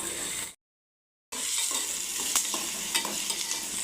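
Onions fry and are stirred in a pan until brown, with a steady close sizzle and occasional utensil scrapes. The sound drops out completely for under a second near the start.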